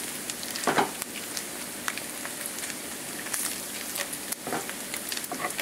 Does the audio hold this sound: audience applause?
no